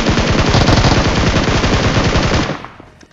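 Rapid automatic gunfire from a firefight in the battle royale game BGMI, dense and continuous bursts for over two seconds before trailing off, loud and close with no talking.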